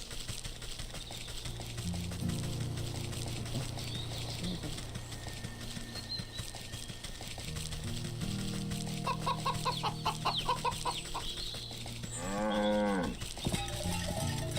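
A cow lows in the game Wytchwood, a drawn-out moo near the end rising over steady looping music, with clip-clop and rooster-like farm sounds earlier and no talking.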